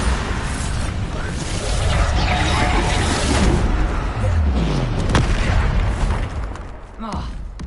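The Bombarda blasting spell in the Hogwarts Legacy video game: loud, deep booming explosions rumble continuously amid dense battle noise.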